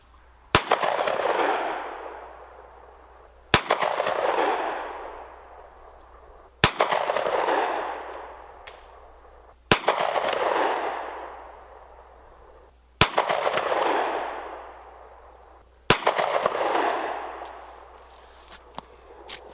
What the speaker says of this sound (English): let's take a couple shots of the 100-yard target